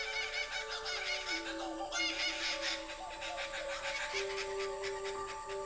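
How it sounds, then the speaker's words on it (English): Laughing kookaburras calling at dawn, a dense overlapping chorus of loud cackling, hooting bursts running continuously, with other birds chattering in the background. "The kookaburra's famous laugh is a territorial song made at dawn and dusk."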